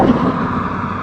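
Tekken 200 motorcycle engine running hard on a highway, a steady loud roar with wind rush throughout a brief moment, no talk.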